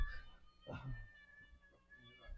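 A cat meows close by, one drawn-out plaintive call rising then falling in the middle, faint and short against a quiet room.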